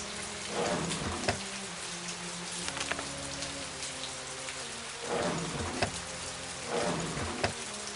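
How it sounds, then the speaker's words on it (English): Rain in the Agatha Christie: And Then There Were None video game patters steadily on surfaces, a close drizzle with scattered drops, under low tonal game music and a few soft thumps. "Just a drizzle. It's going to get much worse."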